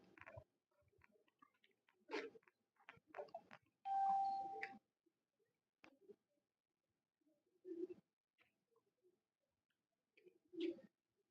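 Pigeons cooing in short, low bursts, with scattered soft bird calls and a brief steady tone between them.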